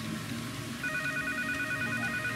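A telephone rings in the video game Left 4 Dead 2, a steady warbling electronic ring that is faint and continuous over a dull background hum.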